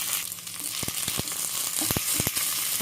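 Cumin seeds, green chillies and coriander fry in a pan for a coconut mango chutney, giving a steady close sizzle with scattered sharp pops and crackles and no voices.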